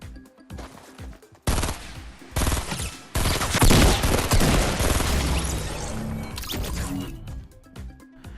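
Gunfire in Fortnite Battle Royale, including point-blank shotgun blasts, comes as loud dense volleys of rapid shots in sustained bursts with brief gaps between them.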